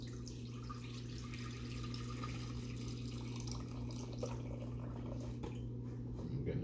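Rendered pork fat drippings from roast pork poured into a pot, a soft steady liquid trickle under a constant low hum, faint and close, with no talk.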